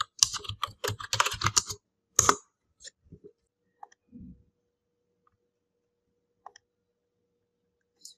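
Quick bursts of computer keyboard typing, a search being entered, with a run of rapid close keystrokes followed by a few scattered clicks and long quiet gaps.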